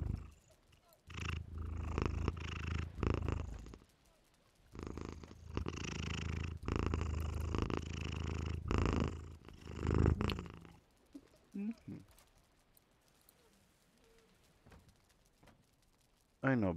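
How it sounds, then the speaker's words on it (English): A domestic cat purring close up in steady rumbling bursts, with short breaks between phrases, while a person talks nearby; the purring fades out toward the end. "You want a purr for us?"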